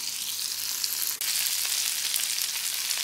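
Achari kundru (ivy gourd) fries in a pan with homemade pickle masala, giving a loud, steady, close sizzle that runs without a break, with one brief stirring scrape.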